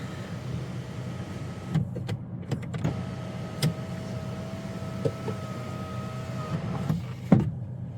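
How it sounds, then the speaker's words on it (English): Electric motor hum from a 2024 Nissan Sentra SV sunroof shade retracting and the roof tilting, a steady whine lasting several seconds among small clicks and cabin thumps. "Sunroof does have a shade, and it goes back and it tilts and all that stuff."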